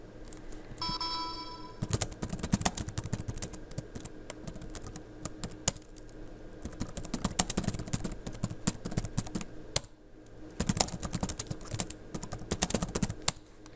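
Fast bursts of clicky computer keyboard typing while configuring DHCP settings on networking equipment, close and quiet with short pauses between runs of keystrokes.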